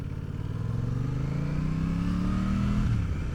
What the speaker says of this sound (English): Ooh, that motor sounds so good.